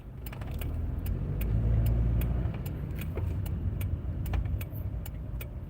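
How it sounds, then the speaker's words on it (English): Road traffic with trucks passing close by, a steady loud engine rumble and tire roar swelling and easing over several seconds, with a few sharp clicks and rattles on top. "A lot of trucks today."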